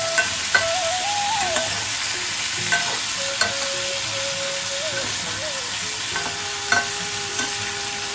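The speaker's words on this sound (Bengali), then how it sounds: "খুব ভালোভাবে মশলাটা আমাদের কষানো হবে।" Spice masala for lau matar dal being sautéed and stirred in a pan gives a steady sizzle with scattered scraping clinks, and a faint tonal hum drifts in and out in the background.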